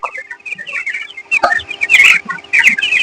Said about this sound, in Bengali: এই যে দেখতেছেন ব্রয়লার মুরগি